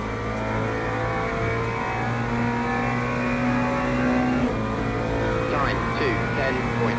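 McLaren 720S GT3 race car engine in Le Mans Ultimate, lapping a wet Monza circuit in the rain, a steady, loud, droning engine tone that holds through the whole stretch with slight pitch shifts.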